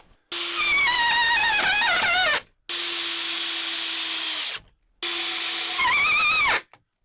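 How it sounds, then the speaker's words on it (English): A power drill drives screws through wooden uprights into mounted 2x4s for attic shelving in three loud, close bursts of a few seconds each, its whine rising and falling as each screw seats. "we're going to screw it to the 2x4s that we have already mounted."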